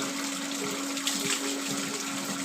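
Water runs steadily from a tap into bottles being filled, close and continuous, with an even rushing flow and a faint tonal hum underneath, and no speech.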